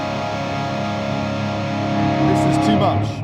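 Electric guitar lead played through a NUX Trident multi-effects unit with hall reverb, sustained distorted notes ringing with a washy tail, a brief bend near the end, moderately loud and heard alone.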